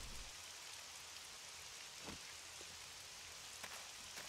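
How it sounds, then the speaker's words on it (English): Heavy rain pours steadily in the survival game 7 Days To Die, a dense, even hiss of downpour with scattered drop impacts, fairly quiet and continuous throughout. "It's like bucketing down with rain though."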